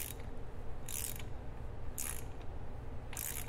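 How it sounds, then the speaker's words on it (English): A small ratchet tightens a new pinion nut on a Ford 8.8 rear axle in short bursts of rapid clicking, three strokes about a second apart over a low background hum. "we're gonna start with a nice small ratchet just to get this seated"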